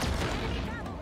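A short, loud burst of gunfire aimed at a ship in the Halo Infinite campaign, a dense rumbling barrage with low booms and a faint voice underneath.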